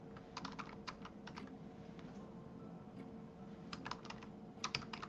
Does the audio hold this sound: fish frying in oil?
no